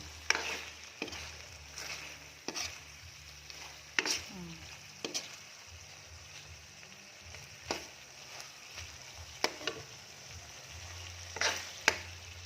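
Adobo simmering in coconut milk is stirred with a utensil, giving regular scraping knocks against the pan every second or so over a soft, steady bubbling. The sound is close, with no talking.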